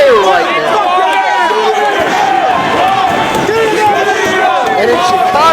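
A Chicago wrestling crowd roars loudly and continuously for CM Punk, a dense rowdy cheer with chants and whistles under energetic commentary talk.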